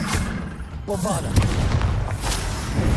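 Bombarda blasting spell from Hogwarts Legacy, a loud booming explosion with heavy low thumps and sharp crackling bursts, rumbling through the clip with a brief voice partway through.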